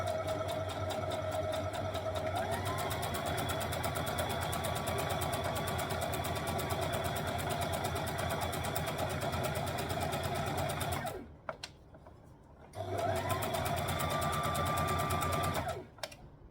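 A sewing machine runs in a long steady rattling whir while stitching a dress seam, stops briefly, then starts again for another short burst of back stitching.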